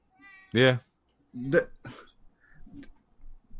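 A house cat meows loudly and close by, then gives a shorter second meow, followed by faint softer sounds and small noises in a quiet room.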